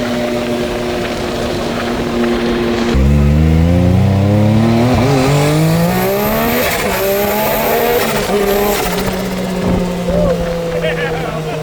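An off-road Banshee powered by a Cummins engine drives hard nearby, its engine roaring loudly with rising and falling revs as it accelerates and shifts, a continuous throaty drone throughout.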